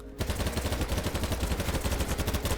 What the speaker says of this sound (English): if we shoot at a wall without controlling my recoil